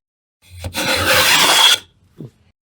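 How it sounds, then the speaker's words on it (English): A single long, rasping stroke of sandpaper on antique chess board wood veneer, close and loud, followed by a brief soft scrape. "Let's start sanding."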